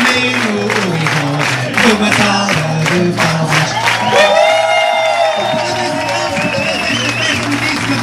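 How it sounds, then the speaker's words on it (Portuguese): An audience at a birthday party in a discotheque applauds and cheers for the birthday boy, with a crowd of clapping, whoops and shouting over loud music with a steady beat, people talking throughout. "uma salva de palmas"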